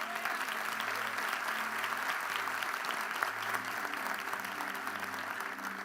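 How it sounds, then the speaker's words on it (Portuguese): A church congregation at an evangelical service breaks into sustained, even applause that holds steady and fills the room at a moderate distance, with a faint low tone running underneath. "Vamos dar um aplauso ao Senhor porque você está aqui?"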